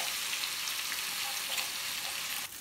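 Strips of bacon fry in a pan, a steady close crackling sizzle with scattered pops that carries on evenly throughout, no voices over it.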